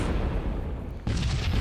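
Starship cannons and kinetic weapons fire in the space combat game Sunrider, a dense rumbling barrage of booms with a sharper burst kicking in partway through, loud and continuous.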